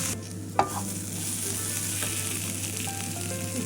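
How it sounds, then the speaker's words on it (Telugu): Onions frying in a pan for a bitter gourd fry made with very little oil, a steady close sizzle running throughout, with a few sharp scrapes and clicks of stirring, one louder knock near the start. "ఈ లోపల ఆనియన్స్ ఫ్రై అయిపోతాం"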